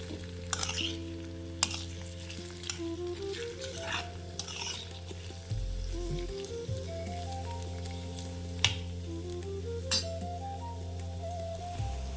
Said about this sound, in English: Stir the padwal well with the already cooked ingredients.